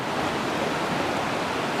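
Water rushes loudly and continuously near a lake dam, a steady broadband roar with no other sounds above it.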